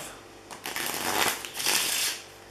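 A deck of playing cards is riffle-shuffled up close, two bursts of rapid fluttering card riffles, loud and crisp, with no speech over them.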